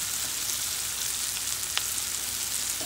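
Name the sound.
okra masala cooking in a pan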